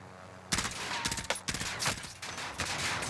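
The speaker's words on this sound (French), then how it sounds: "Merde, merde, ça me tire dessus." Rapid, dense gunfire bursts in the video game Warzone, loud and continuous fusillades with sharp individual shots layered over the rattle.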